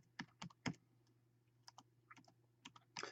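Someone types a short word on a computer keyboard, a few crisp close clicks in quick irregular bursts over a faint steady hum.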